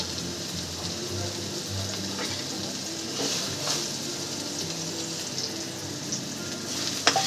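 Eggplant fries in a small amount of oil in a pan, giving a soft, continuous sizzle at moderate distance with faint clatter and a sharp tap near the end.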